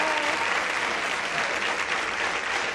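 A studio audience at a dating game show applauds loudly and continuously, a dense even wash of clapping from start to finish.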